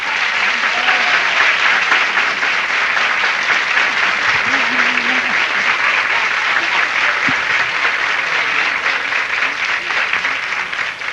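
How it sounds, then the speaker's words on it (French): Loud, sustained applause from a large studio audience on a Quebec television show, a thick continuous roar of clapping throughout with faint voices underneath. "On les applaudit bien fort, tout le monde."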